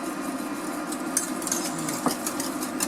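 A whisk stirs batter in small circles in a bowl, a soft continuous scraping swish with faint metallic clinks, close and quiet, no talking.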